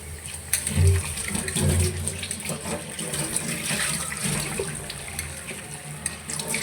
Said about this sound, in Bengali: এই যে দেখুন পেঁয়াজগুলো ভালো করে ধুয়ে নিচ্ছি।